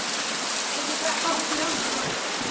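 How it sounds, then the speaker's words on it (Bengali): Heavy monsoon rain pours down in Kerala, a dense, steady roar of falling water that holds at the same loudness from start to finish. "দেখো কিরকম বৃষ্টি পড়ছে। দেখো পুরো অন্ধকার হয়ে গেছে। দেখো এত বৃষ্টি পড়ছে।"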